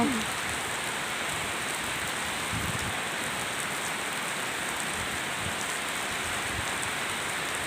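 Heavy rain pours down steadily, a dense, close, even rush of drops hitting surfaces with no pause from start to finish.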